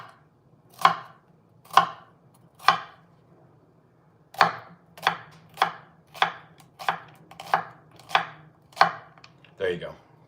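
A knife chops shallots on a cutting board, about a dozen crisp, close thuds, first slow and spaced, then in a quicker steady rhythm, with a quiet room behind.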